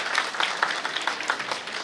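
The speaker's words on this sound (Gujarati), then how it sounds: "તાળીઓના નાદથી ખૂબ ખૂબ વધાવીએ" An audience at a charity event for a blind people's service organisation applauds, a brief, even burst of many hands clapping together, steady and fairly close with no voices.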